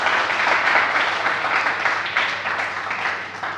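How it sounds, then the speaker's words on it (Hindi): An audience at a poetry and shayari recital breaks into loud, sustained applause, a dense wash of clapping that carries on steadily with no voices over it. "इसके लिए बस जोरदार तालियां"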